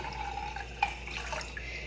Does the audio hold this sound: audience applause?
no